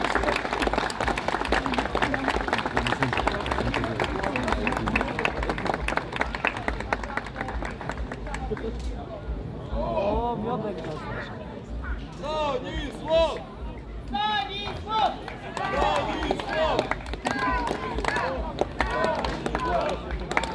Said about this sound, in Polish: duże brawa dla organizatora Stanisława Kuli